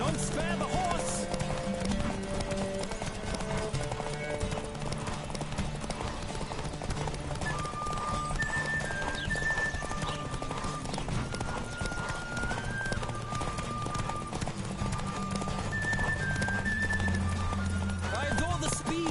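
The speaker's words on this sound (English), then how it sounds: "Don't spare the horse!" A horse gallops in The Witcher 3 with steady clip-clop hoofbeats and occasional neighs, set against game music and a voice talking over the action throughout.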